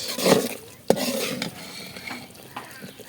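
Spice masala being stirred and fried in oil in a pan, with a spoon scraping and knocking against the pan over a soft sizzle, plus a sharp clack near the start.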